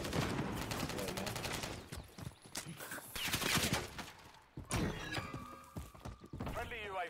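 Gunfire in the shooter Modern Warfare 3 multiplayer: dense bursts of sharp shots and impacts crowd the opening seconds, then thin out to scattered cracks and mechanical clicks, with a voice talking over the action throughout.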